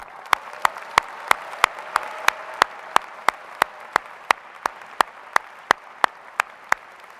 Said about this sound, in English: Let us now applaud our graduates, their families and friends, and faculty who mentored and supported them.